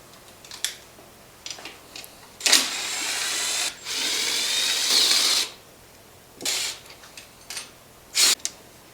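A power driver loosens screws on a GY6 scooter CVT assembly, giving several whirring bursts of varying length, one long steady run in the middle, and short clicks and handling noises between them.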